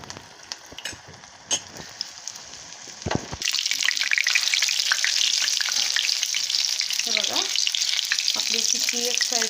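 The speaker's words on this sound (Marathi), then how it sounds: "टिक्की एक साईडने फ्राय झालेली आहे." Veggie burger tikki patties hit hot oil and break into a loud, steady sizzle and crackle that fills the rest of the moment after a few quieter clicks and a thump at the start.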